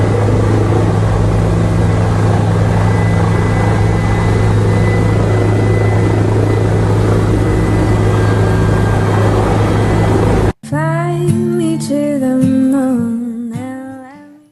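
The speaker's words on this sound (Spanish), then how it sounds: "presumiendo un recorrido en un helicóptero de protección civil usado para trasladar vacunas en contra del COVID-19" A civil protection helicopter used to carry COVID-19 vaccines flies with a loud, steady rotor and engine roar, which cuts off abruptly and gives way to music.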